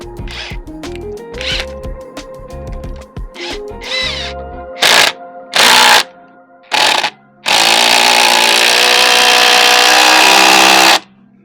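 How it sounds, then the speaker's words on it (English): A power drill drives screws into a 2x4 during a deck gate repair, giving three short whirring bursts followed by one long sustained run, close and loud. "let's throw some screws in it and see what happens"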